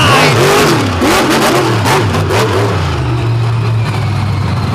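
A monster truck with electronic fuel injection revs hard during an all-star championship race, its engine loud and close, pitch surging and dropping in repeated bursts before settling into a steadier drone.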